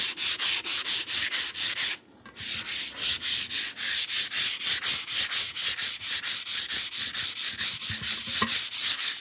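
Rhythmic back-and-forth sanding on a vase cast from stone powder, loud and close, with steady rapid strokes and a brief pause near the two-second mark.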